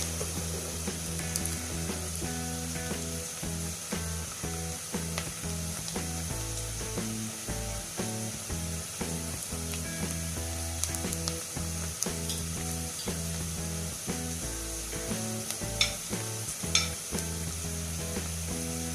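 Garlic, ginger and tomato sizzle steadily in a hot pan for achari chicken, with a constant close frying hiss and repeated scraping stirs throughout.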